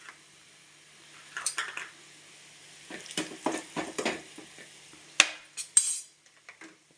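Metal spoon scraping and clinking in a pan while sautéed onions with chili powder are stirred, a run of short scrapes and taps at close range with a faint sizzle underneath.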